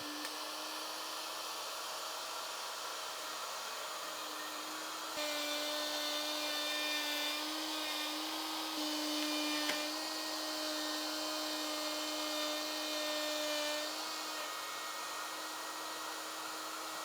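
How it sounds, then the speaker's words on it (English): Wood router cutting an arc-shaped quadrant slot with a trammel jig in repeated passes, steady high-pitched whine that shifts slightly in tone and loudness as the bit bites deeper, alone without talk. "turn the router back on, and make a second pass"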